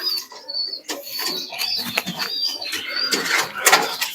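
Pigeons of the Madras breed in a sale loft coo and flutter their wings nearby, with scattered bursts of flapping and soft calls among handling noises.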